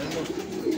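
A racing pigeon gives a short, low, soft coo close by, lasting under a second.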